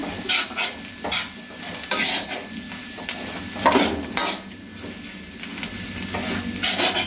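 Beef curry sautéing with masala powder in a pan, with repeated bursts of stirring and scraping over a steady sizzle, nearby and moderately loud, and no talking.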